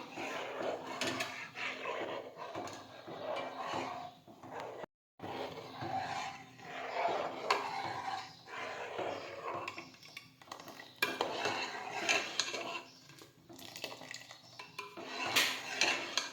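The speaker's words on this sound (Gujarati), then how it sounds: "આ રીતે ચમચો છે એ સતત ફેરવા રાખવાનો છે" A spoon stirs sabudana kheer in a pot with continuous scraping and clinking against the metal, steady and close throughout, with one brief silent gap near the middle.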